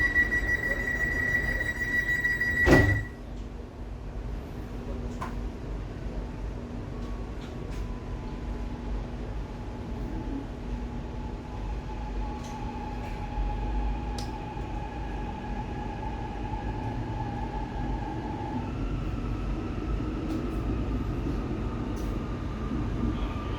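A KCI SFC120-V commuter electric train runs on a Jakarta line near BNI City, giving a steady interior rumble with whining motor tones that rise and shift. A sharp clunk comes early, then the run continues evenly.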